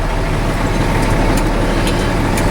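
A truck engine starts and runs in neutral with the spring brakes applied, giving a loud, steady low rumble. Faint hiss-like bursts sit above it, and no one speaks.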